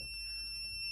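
A Zigbee smart-home bridge sounds its alarm, a steady, piercing high electronic tone that holds unbroken and loud through the whole moment.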